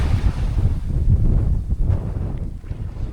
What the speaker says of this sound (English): It is very windy here